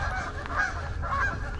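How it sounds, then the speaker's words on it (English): A couple of geese honk nearby outdoors at a fishing camp, with two or three short nasal calls over a steady background rumble. "There's a couple of geese right here."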